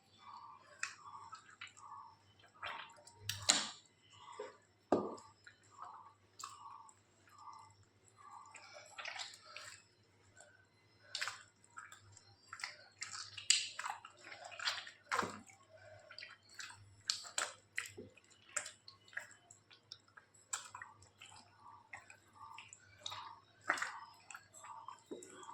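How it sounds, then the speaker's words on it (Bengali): Flour dough being kneaded and washed by hand in water, a close series of soft wet squelches, squishes and drips in irregular rhythm, with no voices. "ময়দাটাকে যত ভালো করে ধুবেন দুকাটা তত সুন্দর হবে।"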